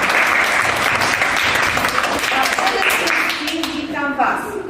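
Applause for the parents at a Christmas workshop at a multicentre in Ostrołęka, a roomful of people clapping loudly and continuously, with a voice speaking over the clapping near the end.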